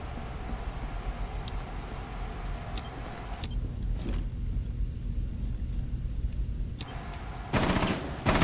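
A video-game gun fires in rapid automatic bursts under a constant engine-like rumble, the shots loud and close with heavy recoil, ending in a louder crackling volley.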